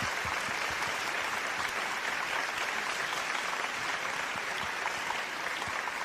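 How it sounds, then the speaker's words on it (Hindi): An audience at a televised business event gives loud, sustained applause as a guest comes on stage, a dense wash of clapping that holds steady throughout with no talk over it. "जोरदार तालियां अश्विनी के लिए"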